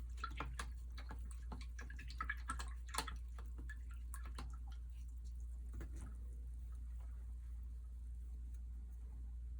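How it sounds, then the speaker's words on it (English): A paintbrush loaded with yellow acrylic paint is swished and tapped in a water cup, giving quiet clustered splashes and clicks early on that fade to near silence over a low steady hum. "So I'm going to rinse that yellow out."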